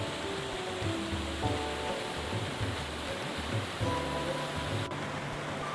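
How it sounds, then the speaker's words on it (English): Broad, steady rushing water of the glacier-fed Yamuna River roars continuously near Yamunotri, with faint tonal sounds drifting underneath. "Look at these clean, fresh and pure waters of Yamuna gushing down from the glaciers"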